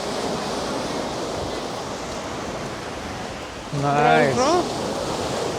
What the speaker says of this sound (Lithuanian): Kokios bangos.